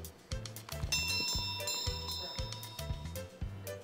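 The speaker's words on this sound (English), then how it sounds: "When you want to call your pets, they will all come running when you ring the bell." A bell rings to summon pets in the Littlest Pet Shop video game, with bright chiming tones repeating steadily over a rhythmic, percussive game backdrop at a clear, close level.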